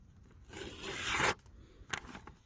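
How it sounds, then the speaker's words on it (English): A single crisp slicing rasp of a sharp tomahawk blade through paper, close and brief, followed by a faint second scrape. "it's taking no effort to slice that paper"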